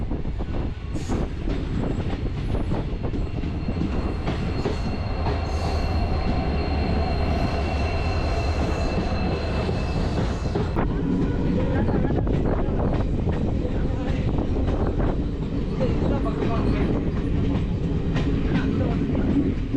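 A train climbs the ghat section on the Kollam–Sengottai route, wheels clattering steadily with long metallic squeals, heard from on board with a continuous rolling rumble and some voices in the background.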